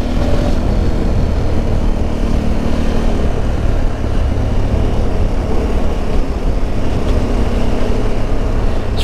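KTM Super Adventure 1290 motorcycle being ridden on a country road, a steady loud engine drone with wind roar, close and continuous without talk.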